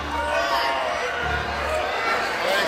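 Feisty audience at a Chicago fundraiser for Obama, a steady murmur of crowd chatter and scattered shouts filling the room, with a voice speaking over the noise.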